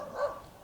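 A dog gives one short bark at moderate distance, heard in a quiet outdoor setting during assembly of a vertical pellet smoker.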